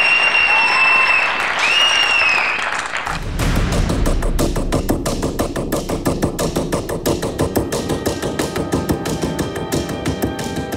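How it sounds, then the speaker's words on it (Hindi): A live studio audience claps for a father-daughter aerial stunt act, entering after a few seconds of shrill music and tones, then continuing as loud, rhythmic clapping alongside music. "तालियों से स्वागत कीजिए"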